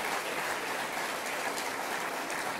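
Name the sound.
audience applause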